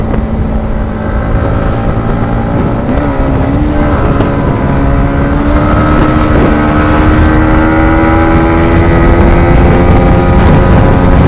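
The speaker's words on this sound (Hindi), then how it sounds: "बाइक की ना साउंड भी टोटली चेंज हो गई है" A Yamaha MT 15 motorcycle engine runs steadily with an altered, faulty-sounding tone, a loud continuous drone with a gradually rising pitch and wind buffeting on the microphone.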